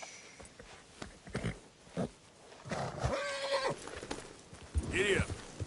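A horse in the video game Red Dead Redemption 2 whinnies and snorts and its hooves clop, up close, while a rider speaks to it softly.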